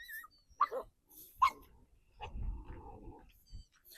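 Dogs bark in a couple of sharp, separate yaps near a dead calf's carcass in a village cattle shelter near Raipur, followed by muffled scuffling and rustling close by, with quiet gaps between.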